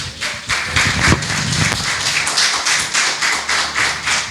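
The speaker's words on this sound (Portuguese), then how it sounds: "Bate palmas para Jesus." A church congregation claps together in a steady, fast rhythm for Jesus, with loud, dense hand claps filling the room throughout.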